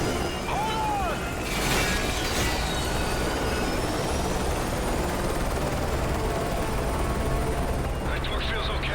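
Helicopter in Modern Warfare 3, a steady close rotor and engine drone running the whole way, with a brief rushing burst near the start and a voice talking over it.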